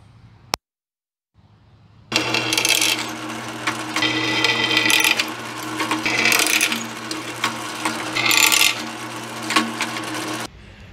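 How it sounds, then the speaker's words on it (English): An electric drill bores holes through a steel top plate for a homemade rack and pinion on a 1940 Chevy coupe. After a short sharp tap and a brief silence, a loud grinding whine runs on with surging peaks, no talking. "Holes in the top plate are drilled"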